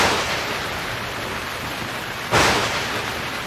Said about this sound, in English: It was raining as the Canaanite army moved to attack.